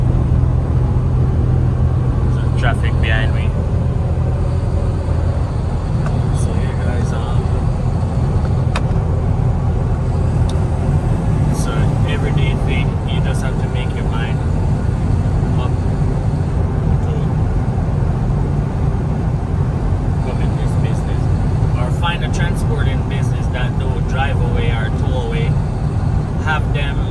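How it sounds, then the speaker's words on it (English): Steady road traffic rumbles behind a driver standing beside the road, a dense continuous roar of passing cars and heavier vehicles, with occasional higher engine whines rising above it. "There's traffic behind me."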